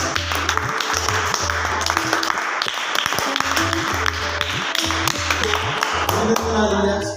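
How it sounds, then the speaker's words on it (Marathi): Students clap together to welcome and congratulate a girl at a school event, a loud, fast, sustained round of applause with a steady beat of music playing underneath. "सर्व विद्यार्थ्यांनी तिचं टाळ्या स्वागत करायचं अभिनंदन करायचं"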